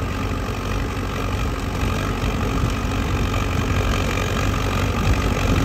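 A KVB tractor engine drives a trenching machine, running at steady speed with a continuous low mechanical drone and rough knocking texture, close and loud with no talk.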